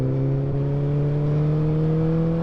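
A BMW S1000XR motorcycle with a Black Widow decat exhaust and a honeycomb DB killer, its engine held at a steady, loud rev with a droning tone that climbs slowly throughout, heard alone.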